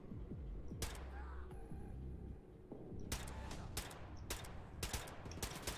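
Bursts of gunfire in Wolfenstein II, sharp loud cracks arriving in irregular clusters over rumbling game ambience, with several rapid shots packed together toward the end.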